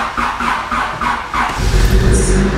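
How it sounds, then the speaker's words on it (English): A Honda car engine cranks with several rhythmic starter turns, then catches and fires up into a loud, steady running rumble. "you guys haven't actually heard this car start at all in a while"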